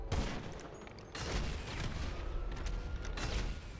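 Grenade launcher fire in GTA 5 Online rumbles and booms in a dense, continuous barrage of blasts and explosions, loud and sustained with no speech.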